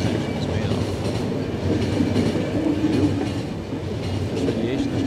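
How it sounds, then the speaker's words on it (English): Train from the game The Final Station rolling steadily along rails, a continuous close rumble with faint clickety-clack throughout and no pauses. "The train will stop."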